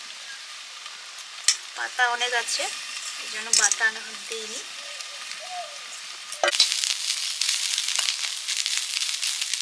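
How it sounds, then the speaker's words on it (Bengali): Amedi fish fries in a pan with raw tomato and coriander leaves. Someone talks over a soft sizzle at first, then a loud, continuous crackling fry takes over once she stops. "ভাজাটা ধীরে ধীরেই করছি, সুন্দর সেদ্ধও হয়ে গেছে।"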